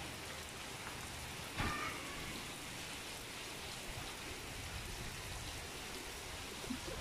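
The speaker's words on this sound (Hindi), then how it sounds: "बड़ी तेज़ बारिश लगी वेख्या जी" Heavy rain pours down steadily in a dense, hissing wash that fills the whole scene, with one brief louder splash and no voices.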